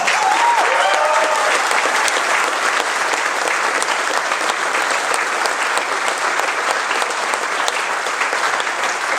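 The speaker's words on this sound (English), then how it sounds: "give them one more round of applause" A loud, sustained round of applause for flag officers at a youth triplehanded sailing championship awards ceremony, thick even clapping from a sizable crowd running unbroken for nine seconds.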